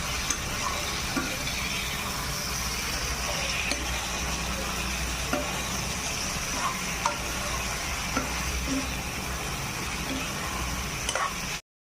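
Cauliflower and potato frying in a pan at home, a steady soft sizzle with occasional stirring clicks and scrapes running throughout.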